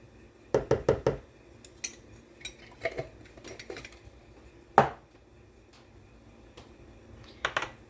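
Metal measuring spoons clink and rattle in quick bursts while garlic powder is added for a homemade cream soup, close and crisp in a quiet kitchen, with one sharper knock partway through.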